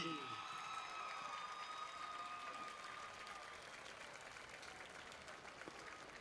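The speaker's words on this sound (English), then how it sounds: "please give a round of applause to all of our Nixa homecoming court." A large crowd at a Nixa High School homecoming ceremony during a Thursday night football game against Lebanon applauds steadily for the homecoming court, a broad, even wash of clapping that fades slightly toward the end.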